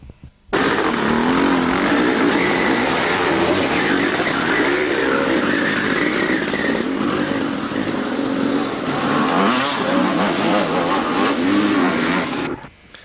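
Sidecar motorcycle engines race on a rough course at the 1991 Welsh 2-day Enduro, a loud continuous snarl with revs climbing and dropping as the bikes labour over difficult ground.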